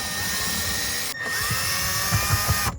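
Power driver backing out the last screws on an Infiniti FX35 cabin filter panel, a steady whirring buzz that stops briefly, then resumes with small knocks near the end.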